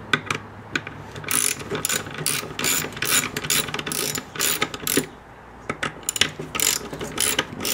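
Ratchet tightening intake manifold bolts during an intake install: rapid bursts of close, loud clicking in repeated strokes, with brief pauses between pulls.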